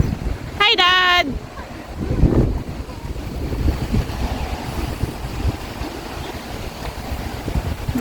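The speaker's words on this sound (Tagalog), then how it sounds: "Maganda ang panahon, mahangin lang." Gusty wind buffets the microphone outdoors on a fine, breezy day, a steady low rumble running throughout, with a brief high whistle-like tone near the start.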